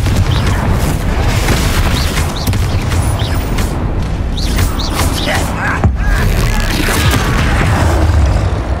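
Confringo fire spells burst in Hogwarts Legacy combat, loud booming explosions one after another over a dense, continuous rumble of battle noise.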